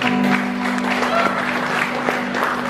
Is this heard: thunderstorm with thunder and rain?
no